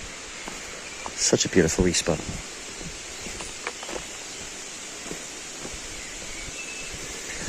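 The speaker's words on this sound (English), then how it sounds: "You hear the river." Steady broadband rush of a river flowing through open countryside in the Belfast Hills, a continuous wash beneath someone speaking briefly, with a few louder sloshing bursts near the start.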